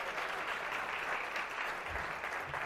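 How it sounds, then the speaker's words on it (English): An audience at a business talk gives dense, continuous applause that stays at an even level from start to finish. "round of applause for Pili and Rodolfo too."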